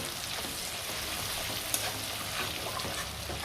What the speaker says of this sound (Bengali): 2 মিনিট হলো অনিয়নটা ফ্রাই হচ্ছে